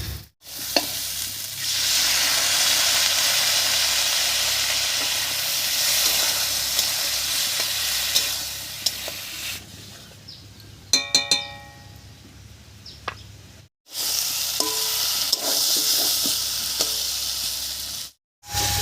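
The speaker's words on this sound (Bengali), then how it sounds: "এবার একটু মশলা বাটা জল দিয়ে কষিয়ে নেব" Spices sauté in a pan with spice paste water, giving a loud, steady sizzle and hiss, then a pause filled with metallic stirring clinks, followed by the frying sizzle returning and cutting off near the end.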